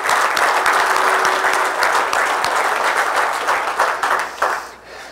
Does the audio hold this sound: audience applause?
yes